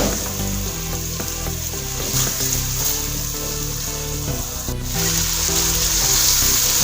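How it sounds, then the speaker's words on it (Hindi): Meat fries with yogurt in a karahi for chicken butt karahi, giving a loud, continuous close sizzle with scraping and stirring sounds throughout and no talking. "अब गोश्त की भुनाई इस दही के साथ भी होगी।"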